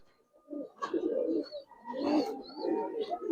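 Pigeons cooing close by, a few low throaty bursts in quick succession with brief pauses between them.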